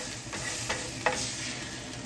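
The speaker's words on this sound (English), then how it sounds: "I'm gonna kind of scrape this just a little" Hamburger patties sizzle steadily on a hot griddle while a metal spatula scrapes across the surface in a few short strokes, one sharp scrape standing out, fairly quiet and close with no voices.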